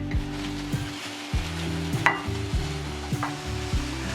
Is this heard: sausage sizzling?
yes